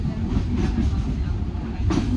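Inside a crowded commuter train in Mumbai, a steady rumble of the moving carriage fills the whole stretch, with murmuring passengers and faint clatter continuous and close throughout.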